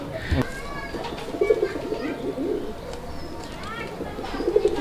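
Large fancy pigeons, Raj-gola and chila types, give a few soft, throaty coos close by, with brief wing and cage noises, while people speak nearby in the background.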